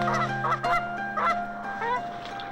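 Migrating geese honk repeatedly in a loud, overlapping flock chorus, nearby and continuous, with no speech.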